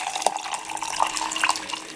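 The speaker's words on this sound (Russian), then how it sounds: "Я сейчас долью немного воды." Water splashing and trickling as it is poured into a jug of lemonade packed with lots of ice, close and moderately loud, with small clinks.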